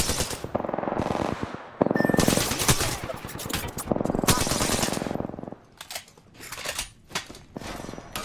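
Rapid automatic gunfire from Apex Legends gameplay, loud bursts of machine-gun fire with short pauses between them, then sharper scattered shots near the end.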